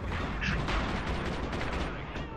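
Artillery barrage in the Men of War: Assault Squad 2 Cold War mod, a dense rolling rumble of overlapping blasts and crackling gunfire that stays loud through the whole moment, with voices talking over it.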